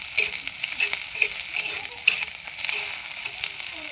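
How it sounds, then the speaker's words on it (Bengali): Vegetables stir-fry in oil with a close, busy sizzle broken by repeated scraping and clattering strokes of a spatula against the pan, heard alone without talk. "এবার আমি দিয়ে দিব সবজিগুলো"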